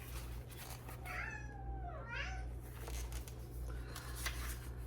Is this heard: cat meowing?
yes